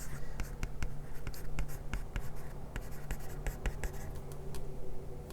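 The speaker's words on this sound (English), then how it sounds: "drag your pencil across the word to select it." A digital pencil stroking across a tablet screen, giving a steady run of light scratchy taps and glides, close up and continuous for several seconds.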